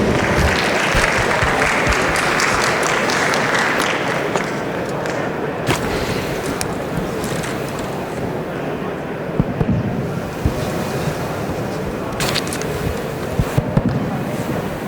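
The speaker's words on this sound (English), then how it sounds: "Can we give them a round of applause, please?" An audience at a mobility panel session of a 2019 APAC summit applauds the panelists, a broad, loud wash of clapping that gradually thins out toward the end.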